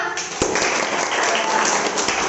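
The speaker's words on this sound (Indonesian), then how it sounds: "tepuk tangan buat kelompok 5" Students in a classroom clap for group 5, a short burst of scattered, close-range applause from a small group.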